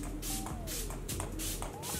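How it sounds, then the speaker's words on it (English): Face mist is sprayed in several quick, hissy bursts one after another at close range, with faint background noise in between. "I'm gonna spray my face"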